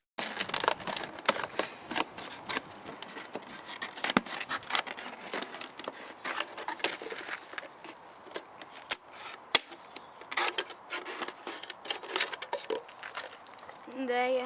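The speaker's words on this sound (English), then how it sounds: "you want to cut the bottle in half" A plastic bottle is cut in half with scissors, making repeated crisp snips and crinkling plastic crackles, close and fairly quiet, while someone talks intermittently.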